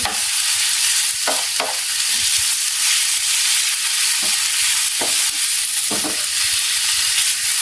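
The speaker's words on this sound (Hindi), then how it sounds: "इस तरह से आलू भी हम इसके अंदर मिक्स कर देंगे" Mashed boiled potato being mixed into vegetables frying in a pan for vegetable rolling bites, with a loud steady hiss of frying and several dull scraping stirs of a spoon, close up and without voices.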